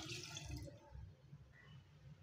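A short splash as a cup of water is poured into a pressure cooker for mutton roast, brief and close, then fades into quiet dripping and faint kitchen noise.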